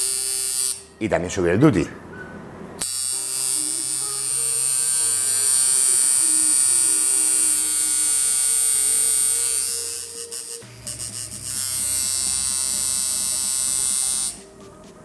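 A coil tattoo machine buzzes steadily with a bright electric hum while its contact screw is adjusted, the pitch shifting as it is tuned, with someone speaking briefly and short pauses where it stops and restarts.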